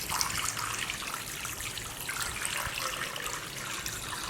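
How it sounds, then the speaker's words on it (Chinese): A continuous hissing stream of water runs steadily at close range into a pot holding pork tripe, scallion and ginger, with no talking. "随后倒水煮猪肚"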